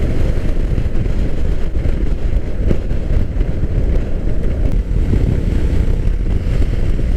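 Yamaha Tracer 700 from 2020 out on the road, a steady broadband engine drone blended with heavy wind rush across the mic, constant and close with no breaks.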